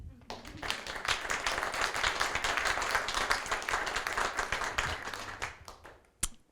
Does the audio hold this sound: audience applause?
yes